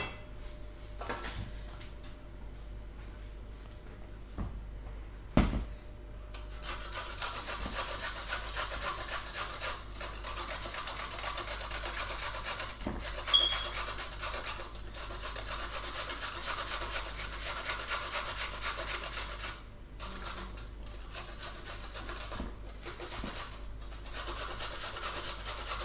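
A carrot being grated by hand for carrot cake, with steady back-and-forth rasping strokes against the metal grater that continue for a long stretch at a fairly quiet, close level, without speech.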